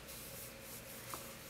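Witch hazel being rubbed onto facial skin during a makeup prep routine, a soft, steady close-up rubbing and swishing that runs continuously and quietly, with no talking.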